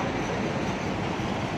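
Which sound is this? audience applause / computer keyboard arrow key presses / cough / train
train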